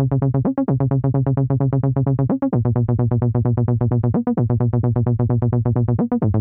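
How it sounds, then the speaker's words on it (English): Synth bass line rolling in steady repeated notes with periodic octave jumps, several returns to a low note across the phrase, loud and alone with no drums or voices. "I'm going to add some octave jumps on this bass line,"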